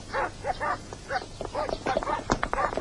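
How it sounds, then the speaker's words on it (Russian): Several dogs bark in quick, repeated bursts, close and loud, yelping and overlapping in an agitated chorus. "Что это собаки разлаялись?"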